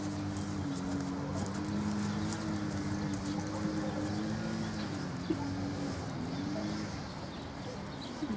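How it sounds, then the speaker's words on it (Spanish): A roan overo horse walking on ground in a small paddock, with steady unhurried hoof clip-clops under a background hum and faint bird calls. "Un caballo con todas las garantías de mansedumbre."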